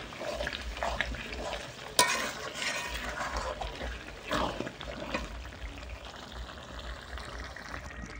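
Chicken skin curry being stirred in a pan after ground garam masala goes in, with a steady low sizzle and scraping, spoon strokes and a sharp clink near the start, no talking.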